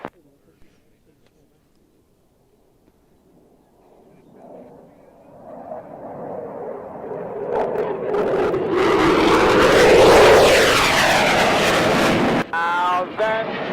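The jet engines of a Vulcan bomber spool up from near silence into a loud, roaring, rising whine during a braking run, heard outdoors with wind buffeting the microphone.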